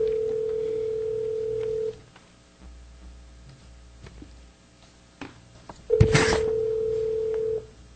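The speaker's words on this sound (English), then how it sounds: "We're pausing to get our fifth board member on the phone during the action items of the agenda." A speakerphone at a governing board meeting calls in a board member, with a steady dial tone, a gap of faint room hum and ticking, a sharp click, and then the dial tone again, all without voices.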